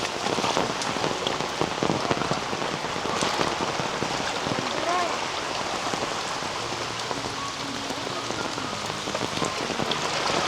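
Heavy monsoon rain pouring on a Konkan village amid flooded fields and fast-running water, a steady dense hiss of drops on surfaces with a few sharper patters, continuous and close.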